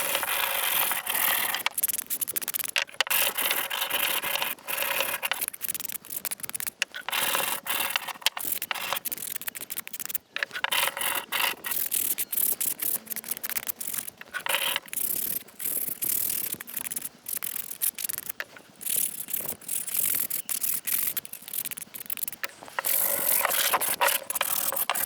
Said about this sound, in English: Now I'm only going to be giving it a rough sand